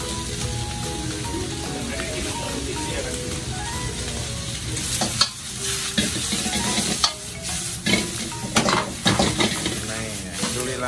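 A street-food chef stir-fries in two woks at once, with loud steady sizzling and frying, repeated metal clanks and scrapes of utensils against the pans, and voices talking in the background.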